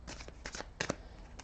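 Tarot cards being shuffled up close, a few short papery riffling bursts with brief pauses between them in a quiet room.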